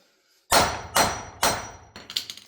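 Three heavy hammer blows land at steady intervals, each ringing briefly, followed by a quick flurry of lighter taps, while seating a part during a Yamaha ATV rear differential rebuild.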